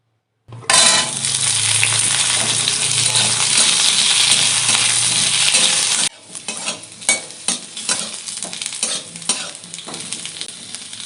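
Potatoes fry in mustard oil in a pan with a loud, dense sizzle for about six seconds, then quieter sizzling broken by repeated scraping stirs of the spatula.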